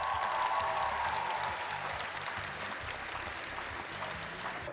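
Audience applause at a KVN Junior League gala concert in Ufa, a dense, steady wash of clapping from a large crowd filling the hall, loud at first and easing slightly while continuing throughout.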